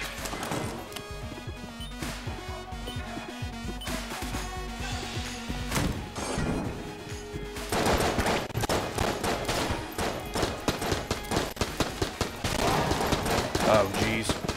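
Rapid shotgun blasts and other gunfire crackle through a frantic firefight in the video game Enter the Gungeon. Bursts of shots stack densely, and sharp impacts punctuate the dense game noise.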